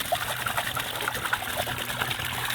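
Distilled vinegar tipped out of a motorcycle part after a three-day rust soak, a steady close trickle and splash of liquid running continuously without talk.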